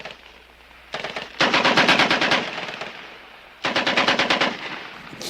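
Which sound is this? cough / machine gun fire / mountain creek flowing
machine gun fire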